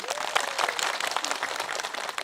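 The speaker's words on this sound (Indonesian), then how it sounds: "Tepuk tangan untuk semuanya." Audience applause at a religious gathering honoring the Prophet, a dense steady wash of many hands clapping throughout, fairly loud and continuous with no breaks.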